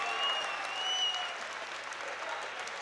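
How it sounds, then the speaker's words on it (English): After a Scottish Muaythai bout, the crowd applauds steadily at a moderate level, a continuous wash of clapping from the surrounding audience without a break. "Big round of applause."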